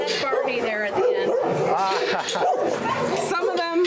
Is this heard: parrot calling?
no